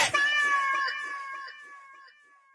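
A cat meows once in a long, drawn-out, loud cry that slowly fades, set within a meme song.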